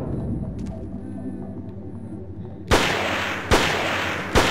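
Three loud gunshots fired in the video game Forbidden Siren ring out about a second apart, each sharp crack followed by a lingering roaring tail, after a quieter stretch of ambient game hum.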